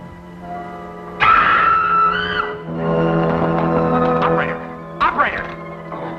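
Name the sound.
woman screaming, radio serial effect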